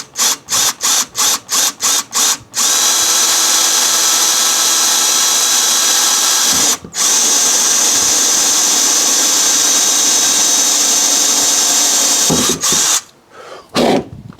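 A power drill fires in several short bursts, then whirs at a steady high pitch for about ten seconds, stops briefly, and ends with a few more quick bursts.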